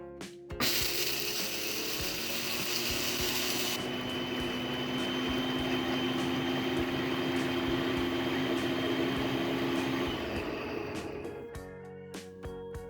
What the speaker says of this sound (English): We just need to plug in our blender here. Now the only thing left to do is to blend.